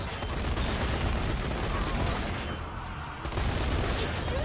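Sustained gunfire in Zombie Army 4 co-op on its hardest difficulty, a dense continuous barrage of game shots with a brief dip midway before the firing resumes at full loudness.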